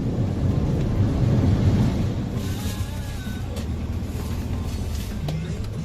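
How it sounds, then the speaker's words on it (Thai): Outdoor rain with rolling thunder during a Thai tour, a loud steady rumble and hiss of downpour with low thunder and passing traffic, fading slightly after the first couple of seconds. "ฝนยังตกอยู่นะครับ"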